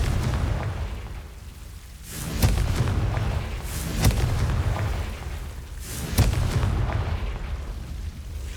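Confringo spell blasts go off in the video game Hogwarts Legacy, three booming explosions with sharp cracks rising over a dense, rumbling ambient bed at a steady, fairly loud level.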